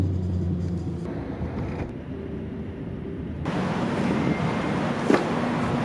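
An Uber car ride: a steady low rumble of a car interior, quieter at first, then a louder road roar swells midway, with a brief creak or knock near the end.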